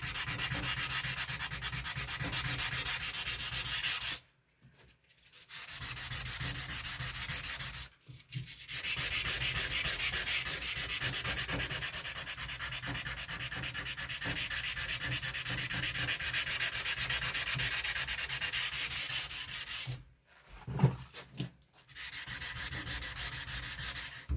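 A firearm is block sanded with 220-grit sandpaper in long, steady abrasive strokes, broken by a few short pauses, close and continuous with no talking.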